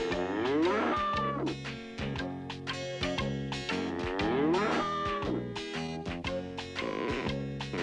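A cow in the Fat Albert and the Cosby Kids cartoon moos loudly and repeatedly, with rich, drawn-out bellows in a steady rhythm.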